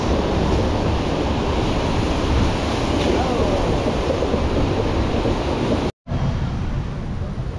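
A FlowRider artificial surf wave aboard a Royal Caribbean cruise ship rushes in a continuous loud, wash of water, with wind buffeting the microphone and a brief dropout near the end.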